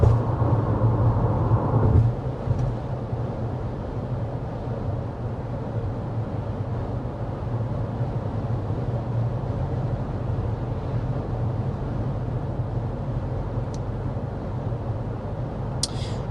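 Inside a moving 2025 Subaru Forester Hybrid or Toyota RAV4 Hybrid SUV: a steady, quiet low rumble and road hiss filling the cabin, slightly louder for the first couple of seconds, with no talking.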